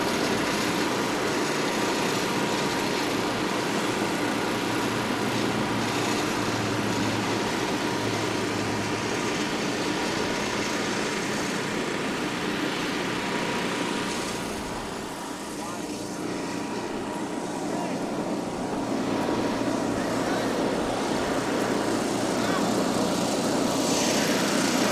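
A gas leaf blower drones steadily close by, clearing debris off an asphalt pavement ahead of seal coating, its engine whine holding nearly constant with a brief dip midway and a broom working alongside.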